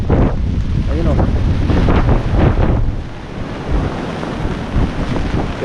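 Strong typhoon winds buffet the microphone while sea waves crash against damaged coastal houses, a loud continuous roar with surging bursts of surf.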